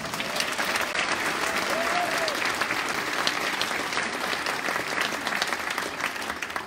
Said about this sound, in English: round of applause for the one,